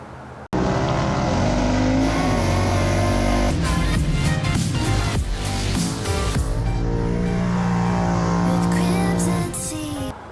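A 2016 Polaris RZR 1000 Turbo side-by-side engine idles loudly and then revs up in strong surges, its turbocharged roar rising and falling close by without any talk.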